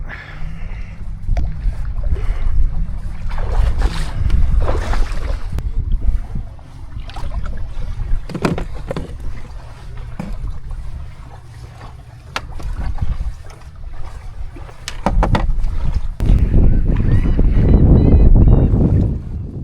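A boat churns across water with steady wind and hull noise, punctuated by knocks and splashes, rising to a louder rush near the end.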